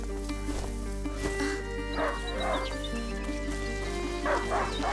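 A hunting dog barks in the video game A Plague Tale: Innocence, with several barks and yips spread across a steady low background drone and game music.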